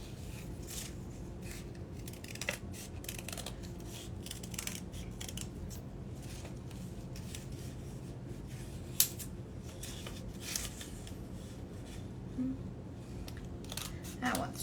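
Scissors snip slowly around the fingers of a paper handprint cutout for a handprint-flower craft, giving quiet, close crisp cuts with small pauses between them over a low background hum.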